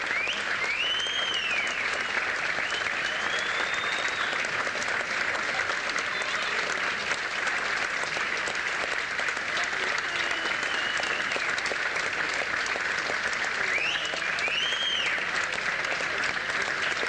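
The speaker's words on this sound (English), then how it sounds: "He's getting a standing ovation." A crowd gives a standing ovation to a bowler after the 1984 SPC men's final, with sustained dense applause throughout and faint whistles rising over the clapping.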